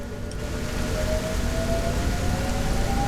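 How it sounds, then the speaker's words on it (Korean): Rain pours steadily in a train driving simulator game, a dense close hiss of drops with a low rumble and a faint high tone from the train underneath, building slightly in the first second. "와 이제 비가 오는"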